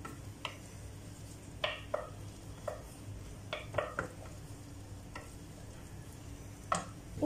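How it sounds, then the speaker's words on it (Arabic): Ingredients for an Asian soup sauté in a pan with a soft, steady sizzle underneath, broken by occasional clinks and scrapes of a utensil against the pan. Quiet and close, with no one talking. "غادي نشحر هاد المكونات مزيان"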